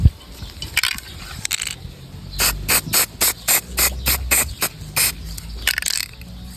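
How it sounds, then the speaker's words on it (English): A spray paint can coats a laser-cut single-layer ornament in a series of short, sharp hissing bursts, about a dozen quick pulses in a steady rhythm, close and fairly loud, with softer rustling and handling noise around them. "So let's spray paint the next."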